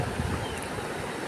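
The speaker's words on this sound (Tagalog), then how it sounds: "Ganda po ng ilog dito mga kababayan." A river with a strong current rushes over large rocks in a steady, broad wash of flowing water, fairly loud and unbroken, with no voices.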